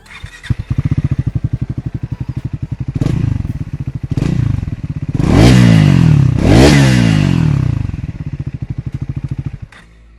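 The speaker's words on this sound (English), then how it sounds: "I'll possibly just start the motorcycle and make you hear how the bike sounds like." A 2023 Triumph Scrambler 400X motorcycle engine idles in neutral with a steady rapid thump, briefly revving louder twice in the middle before settling back to a loping idle.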